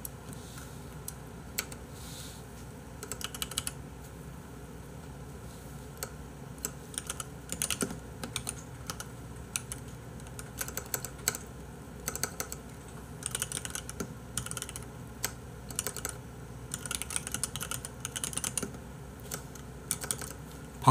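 Steady typing on a computer keyboard, close and fairly quiet, with rapid irregular key clicks and occasional louder strokes continuing throughout without talk.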